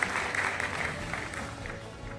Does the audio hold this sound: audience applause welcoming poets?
yes